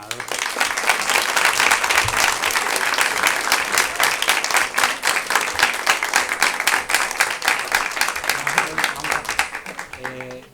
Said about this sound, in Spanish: Pido un aplauso para Óscar Fábrega porque es el ganador.